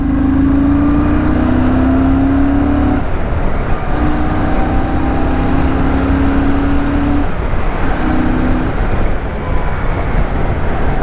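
A Royal Enfield Shotgun 650 limited edition twin-cylinder motorcycle engine revs hard and close, climbing in pitch in three rising bursts separated by brief drops, alone with no talking.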